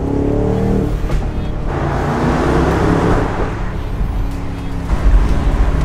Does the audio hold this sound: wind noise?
yes